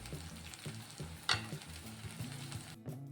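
Curry leaves dropped into hot oil for a cabbage, potato and pea fry give a steady sizzle, with a sharp crackling burst partway through as they hit the pan and a clatter near the end.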